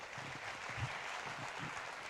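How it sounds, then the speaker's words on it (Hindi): An audience at a company business event applauding, a steady, soft wash of clapping hands heard from a distance throughout. "एक बार जबरदस्त ताली हो जाए"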